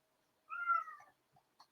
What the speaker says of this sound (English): My cats are crying up a storm